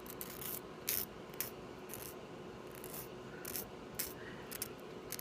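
A nail file rasps over Jamberry nail wraps to trim the edges, a soft continuous rubbing with brief sharper scrapes every second or so, close and fairly quiet, with no talking.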